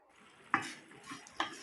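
A thick coconut and sugar mixture for coconut candy bubbles and sizzles in a pan, with two short scraping stirs over a soft steady simmer.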